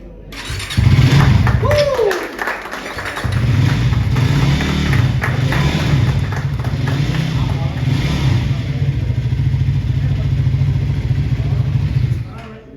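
A Triumph Tracker 400 motorcycle is started at a live launch event, its engine settling into a steady loud idle with a few revs over continuous low rumble, while people talk nearby.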